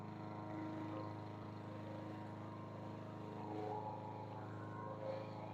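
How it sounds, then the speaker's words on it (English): A lawn mower runs steadily somewhere in a garden, a low continuous engine drone at moderate distance with no talk over it. "So Dave is now mowing back here"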